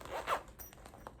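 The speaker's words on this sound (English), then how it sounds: "had a thread stuck in my zipper" A clothing zipper is tugged in short quiet bursts during a cross-stitching session, with a faint rasp near the start and a couple of smaller pulls after, close and soft with no talking.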